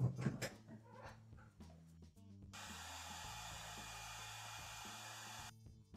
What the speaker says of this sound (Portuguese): Eu mostrei bem rapidinho eu usando o secador, porque como esse papel é de algodão, ele demora um pouquinho mais para secar